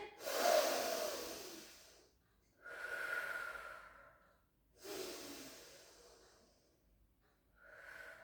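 Long, audible breaths during a pilates exercise, several slow airy inhales and exhales repeating at an even pace, close and fairly quiet, with no voice.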